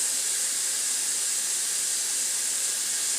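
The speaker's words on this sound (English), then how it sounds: "I'm going to let this simmer for a little bit" Homemade jambalaya simmers in a pot, giving a steady, even hiss of steam and bubbling that holds at the same level throughout, close and without any talking.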